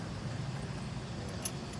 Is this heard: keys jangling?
yes